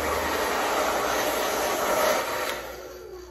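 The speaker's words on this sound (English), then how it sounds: "I'm just gonna use a blow dryer for this because I forgot the fans at the studio and I'm home" A blow dryer on its cool setting blowing steadily at close range with a constant airy roar, trailing off slightly at the end.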